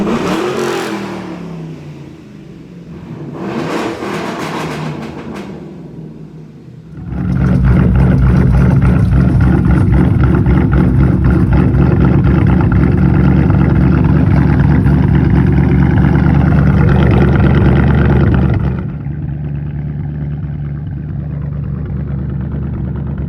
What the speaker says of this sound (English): anything that makes the engine run rough like that on purpose just to make it sound cool